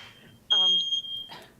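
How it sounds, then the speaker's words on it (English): Smoke detector fire alarm sounding in a council meeting room: a piercing, steady high-pitched tone that begins abruptly partway through and holds for about a second, with brief voices overlapping it and a low room murmur underneath. "Fire alarm."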